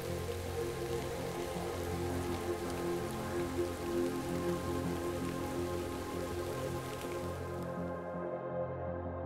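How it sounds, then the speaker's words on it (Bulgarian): A torrential downpour of liquid gemstones on an exoplanet, heard as a dense, steady hiss of heavy rain pounding a surface, loud and unbroken for most of the stretch before cutting off abruptly near the end. "отприщвайки проливен дъжд от течни скъпоценни камъни."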